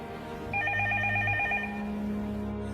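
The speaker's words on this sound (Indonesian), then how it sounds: "Sebuah telepon berbunyi." A telephone bell rings in a repeated trilling burst over a low background hum in a quiet night-time room from the film 3-Iron, then stops, leaving a steady tone.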